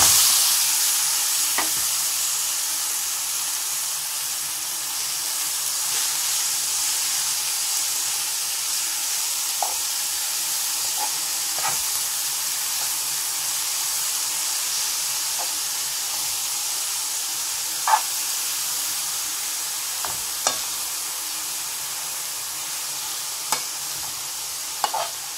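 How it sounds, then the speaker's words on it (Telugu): Grated beetroot frying over a medium flame in a pan, a constant soft sizzle and hiss with occasional faint scrapes and taps of stirring, with no talking. "ఈ తురుము పెట్టిన బీట్రూట్ ని ఇందులో వేసేసుకొని ఫ్రై చేసుకుంటాం మనం"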